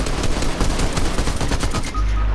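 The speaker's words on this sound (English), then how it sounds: "We'll just shoot them down then." Rapid automatic gunfire from a video game shooter match in a swamp map, a dense burst of loud overlapping shots over about two seconds, then a low rumble as the firing stops.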